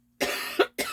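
Two quick, harsh coughs from one person, close and dry, separated by a short gap.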